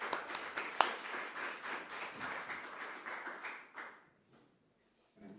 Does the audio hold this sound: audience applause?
yes